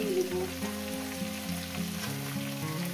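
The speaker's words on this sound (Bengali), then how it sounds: "বিন কড়াইগুলো আমি দিয়ে দেবো, এগুলো ভাজতে হবে।" Beans and bean seeds fry together in a pan, giving off a gentle, continuous sizzle up close with steady tonal music playing underneath and no talking.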